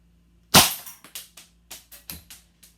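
A Knights Armament PDW airsoft gun fires on semi-auto: one sharp, loud first shot, then about eight more crisp snaps at an uneven, fairly quick pace, close by.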